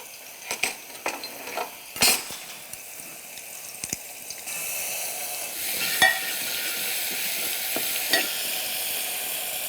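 Pounded garlic with salt and pimenta de cheiro peppers frying in bottle butter, sharp scraping stirs and utensil clinks at first, then a steadier, louder sizzle with a few more knocks against the pan.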